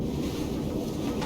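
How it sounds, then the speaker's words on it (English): Wind in The Long Dark survival game blows in a steady, low, rumbling gust, a dense continuous roar filling the short moment with nothing else standing out. "Yeah, it's windy."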